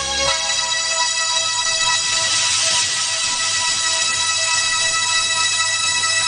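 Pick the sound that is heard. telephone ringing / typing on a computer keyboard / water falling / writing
telephone ringing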